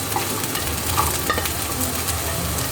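Carrots frying in a pan give off a dense, even sizzle up close, with faint stirring scrapes mixed in.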